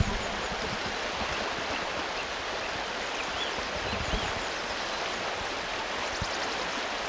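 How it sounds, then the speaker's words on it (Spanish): Water from a mountain stream and waterfall at a barbel fishing spot rushes in a steady, even roar, fairly close, with no voices. "estamos pues solamente rodeados por el sonido del agua, de la cascada y de los pájaros que nos acompañan"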